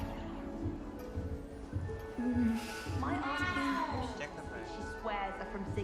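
A cat in the video game Hogwarts Legacy gives a couple of drawn-out meows, each rising and falling. Both sit over a soft ambient game background with light rhythmic clopping.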